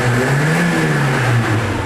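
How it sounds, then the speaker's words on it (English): A hot Saab 900 Turbo engine is revved hard at full throttle, a loud, close, continuous drone with its pitch sweeping slightly, no speech over it. "get the engine running hot, and then boot the throttle as hard as you can"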